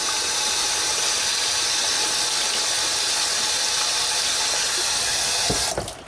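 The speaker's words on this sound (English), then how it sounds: "Just put some water over them." Water poured from a tap over Korean rice cakes being soaked for tteokbokki, a steady close rushing stream that cuts off near the end.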